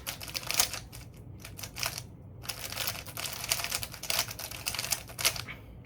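A Rubik's cube with strong corner cutting is turned fast, making rapid plastic clicks and clacks in quick flurries with brief pauses, close and fairly soft.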